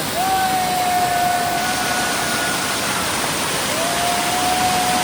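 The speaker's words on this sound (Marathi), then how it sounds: "मजबूत वरती जो आहे ना तो मेन धबधबा आहे" Loud, steady roar of Bheli waterfall during heavy rain filling the air without pause, with a faint high tone drifting over it twice.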